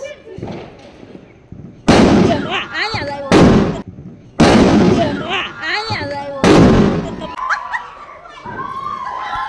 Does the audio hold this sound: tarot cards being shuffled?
no